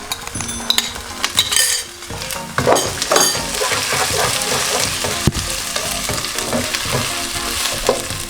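Garlic and ginger frying with browned onions in a pot for a Pakistani chicken and chickpea curry, a steady close sizzle broken by scraping stirs and clinks of a utensil against the pot.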